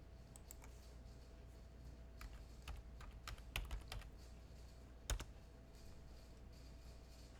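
Keys clatter on a computer keyboard in quiet, irregular bursts of typing, with a few sharper clicks standing out against a low room hum; no one speaks.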